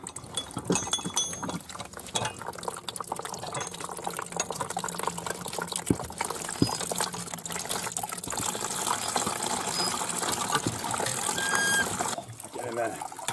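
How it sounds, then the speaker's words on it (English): Fresh apple juice gushes steadily from a cider press, a continuous wet splashing and trickling with faint clinks, close and fairly quiet throughout. "Time to see the juice pour."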